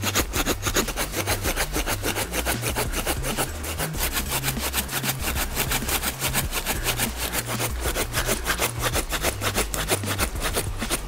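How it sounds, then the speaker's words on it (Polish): A hand saw with a stainless steel 420 blade cutting fast, with loud, close, rapid back-and-forth rasping strokes in a steady rhythm throughout, no voices. "Ta piła tnie naprawdę szybko."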